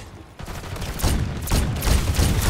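Sustained automatic gunfire from a zombie-mode turret in Call of Duty: Black Ops 6, rapid bursts building louder over a couple of seconds with no talking.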